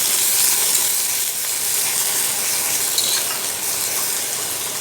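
A big onion goes into a hot pan for goat intestine roast, giving a steady, loud broadband sizzle and hiss that holds evenly throughout with no talking.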